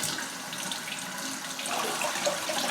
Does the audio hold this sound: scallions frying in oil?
no